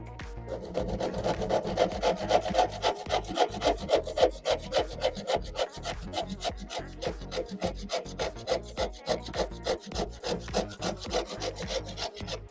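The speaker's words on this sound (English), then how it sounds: "Now I'm going to use a handsaw" Handsaw cutting through wood in rapid, regular back-and-forth rasping strokes, close and loud, the rhythm slightly changing partway through, with no talking.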